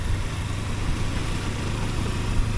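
A Kawasaki Versys X-300 motorcycle engine runs at low RPM while riding off-road to cool down, a steady low drone with wind rumble and no speech.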